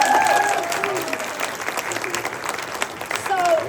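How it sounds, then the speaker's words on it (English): Audience applause fills the room at a Q&A session, a dense, steady wash of clapping held across the whole stretch, with a few faint voices mixed in. "please, give her a big round of applause"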